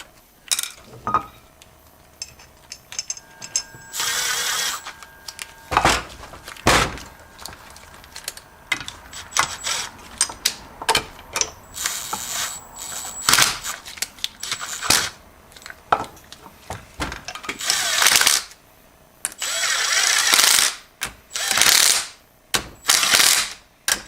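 A ratchet torquing bolts on a C6 transmission during a rebuild for a 1980 Ford F-350 service truck, with loud, close bursts of clicking separated by short pauses and metallic clanks.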